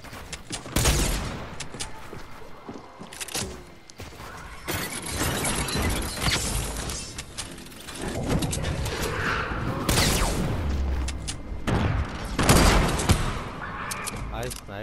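Sniper gunfire in a fast-paced online shooter game, with sharp cracks and bursts of shots mixed with crashing effects throughout, loud and busy, while a voice talks over the action.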